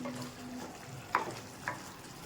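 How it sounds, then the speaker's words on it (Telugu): Drumstick curry with tamarind juice is stirred in a pan, faint soft scraping with two brief sharper clinks of the spoon against the pan, no talking. "అలాగే 2 మినిట్స్ అలా కలుపుకుంటూ"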